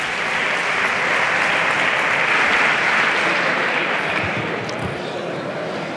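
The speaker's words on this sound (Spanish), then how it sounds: "Mariano Rajoy sube a la tribuna, apoyado por el aplauso de los diputados del Partido Popular." Sustained, dense applause from Partido Popular deputies in the Spanish parliament chamber, a steady loud wash of many hands that holds for several seconds before easing slightly.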